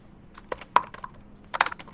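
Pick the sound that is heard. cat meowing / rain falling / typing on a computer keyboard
typing on a computer keyboard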